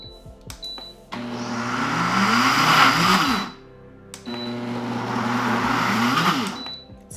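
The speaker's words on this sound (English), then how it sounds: "you just wanna pulse it until it forms a dough ball" A food processor pulses keto pie dough for a turkey pot pie in two long loud whirring runs, the dough thumping around the bowl, with a short quiet gap between them.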